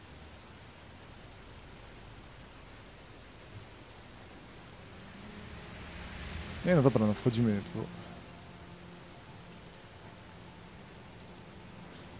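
Steady soft rain hiss fills the background of the video game Heavy Rain, with a brief burst of speech partway through.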